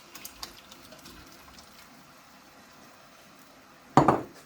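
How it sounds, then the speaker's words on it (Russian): Potato pieces tossed into a pot of freshly strained broth in a home kitchen land with a single short clatter and splash near the end, after a few seconds of quiet room sound with faint earlier clinks. "И теперь закину картошку."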